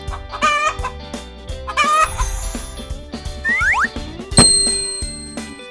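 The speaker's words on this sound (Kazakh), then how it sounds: "Тауық" Chicken clucks in quick bursts, then a crowing rooster, heard alone and close with background music bells and chimes.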